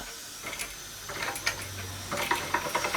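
A Jensen Model 65 toy steam engine runs under steam, giving a steady mechanical hiss with faint rapid ticking and clicking that picks up in the second half, close and fairly quiet, with no talk.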